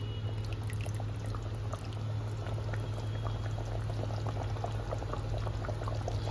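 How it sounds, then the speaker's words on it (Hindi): Fish curry gravy with pre-fried papta fish boils steadily in a pot, a dense continuous bubbling and popping that stays close and even throughout, with no voices. "इसको 5 मिनट का बॉईल देंगे और फिर बंद कर देंगे"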